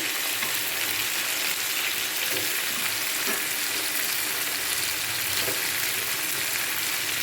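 Potatoes sizzle steadily in hot oil in a pan during a chicken curry; a dense, continuous frying hiss runs close and even throughout, with no voices.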